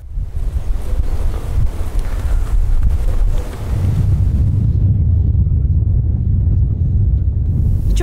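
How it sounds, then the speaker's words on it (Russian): Winter wind blasts against the microphone outdoors beside a frozen fishing spot in Gorki, Mogilev region. The gusts roar loud and low throughout, easing briefly partway before surging back, with no talking. "Холодно, ветер дует."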